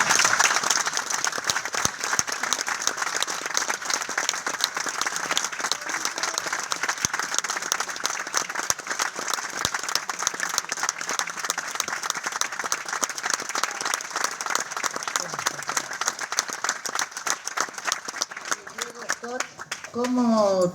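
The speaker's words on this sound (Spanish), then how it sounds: "que pido un aplauso para Fernando Peña" A studio radio audience gives sustained applause for Fernando Peña, a long, dense, continuous burst of clapping that stays loud and steady for about twenty seconds, with a voice briefly coming through near the end.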